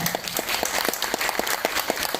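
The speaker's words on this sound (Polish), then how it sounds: "jeszcze raz wielkie brawa dla Was" An audience at a cultural gala applauds steadily, with evenly spaced individual claps standing out from the dense, moderately loud clapping throughout.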